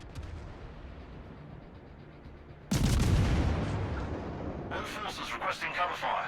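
Cruiser Ochakov firing high-explosive shells in a naval video game: a sudden loud broadband salvo blast at mid-clip, rolling on with rumbling decay and then a burst of crackling impacts, over a low steady background.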